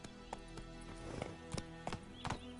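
Hooves of Geralt's horse Roach in The Witcher clip-clop in an uneven walking rhythm, a handful of distinct hoof strikes over a low steady background hum, fairly quiet.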